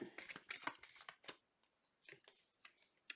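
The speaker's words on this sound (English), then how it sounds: "Last shuffle, Spirit." Tarot cards are shuffled in quick, faint riffling bursts with brief pauses between, close and quiet, ending in a sharp snap of cards.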